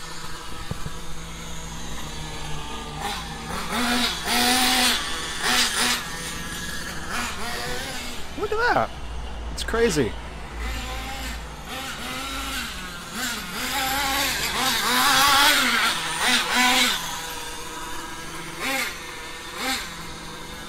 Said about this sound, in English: It's really loud, but it's also really powerful.